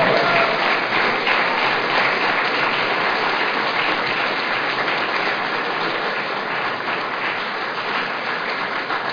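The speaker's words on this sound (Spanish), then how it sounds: "Démele un fuerte aplauso al Espíritu Santo." A church congregation applauds during a worship service, steady, dense clapping that holds at an even level from start to finish with no voices standing out.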